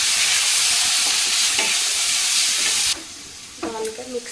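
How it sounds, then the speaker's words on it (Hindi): Tomatoes with turmeric, salt and chili sizzle loudly in a hot pan while being stirred. The steady frying hiss is close and constant, then drops slightly near the end as a few scraping stirs come through. "बस अब इसमें टमाटर डाल दे और हल्दी नमक मिर्च तीनों डाल दे, बस ये सारी अच्छे से मिक्स कर दे"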